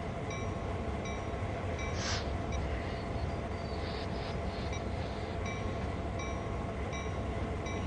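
A freight train climbing the Sand Patch grade in Train Sim World 2, a continuous low rumble of rolling wagons with faint clanks and squeals, steady and unbroken throughout.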